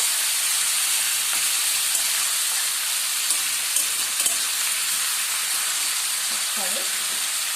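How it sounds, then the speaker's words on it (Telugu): Chettinadu-style chicken fries on medium heat with a steady, even sizzling hiss. Faint stirring sounds occur now and then, heard up close without speech. "మీడియంలో పెట్టి దగ్గరుండి కొంచెం కలపాలి."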